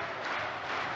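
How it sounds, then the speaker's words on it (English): A capacity crowd roars in a packed Hamburg arena during a darts semi-final, a dense, steady wall of cheering with no pauses. "listen to the capacity crowd here in Hamburg"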